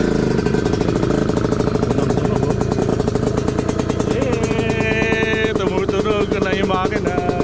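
An MPX 250cc two-stroke dirt bike engine runs loud and close, a steady buzzing idle with a brief rise in pitch as the throttle is blipped near the end.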